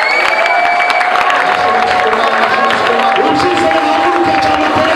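A church congregation applauds and cheers during a pastor's service, a loud continuous crowd roar with clapping and shouts, a preacher's voice carrying over it throughout.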